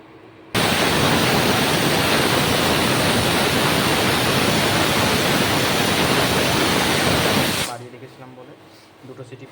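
A pressure cooker holding potatoes lets out one long, loud, steady whistling hiss of steam for about seven seconds, then it cuts off and leaves quieter kitchen sounds.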